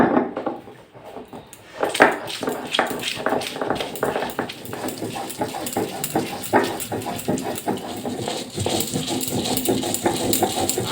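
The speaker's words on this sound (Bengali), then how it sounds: "আর হচ্ছে এই বাটাটা একদম মিহি করে বাটতে হবে" Dried fish paste being ground by hand on a stone until very fine, with repeated scraping and knocking strokes in an uneven rhythm, close and fairly loud, with household clatter around it.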